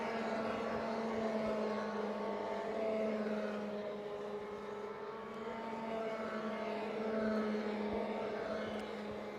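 Cadet racing karts on the track at Kiltorcan during an IAME Championship race, a continuous, moderately distant engine drone with a steady pitch that rises and fades slightly as the karts pass.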